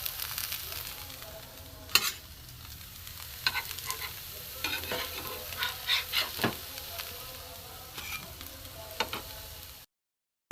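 Raw vegetables fry gently in a little oil in a pan over a low gas flame, making a soft continuous sizzle broken by repeated scraping and clinking stirs, before a brief drop to silence near the end.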